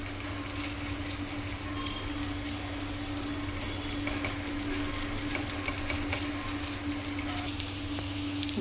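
Soy corn tikki patties shallow-frying in a pan, with sesame seeds sprinkled on top, give a soft, steady sizzle with faint pops over a low constant hum and no speech.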